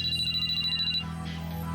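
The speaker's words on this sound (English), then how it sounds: "Then suddenly Shirabe's cell phone rang." Cell phone ringtone from a visual novel video game, a bright pulsing electronic melody repeating steadily for about a second before cutting off, over a low background music bed.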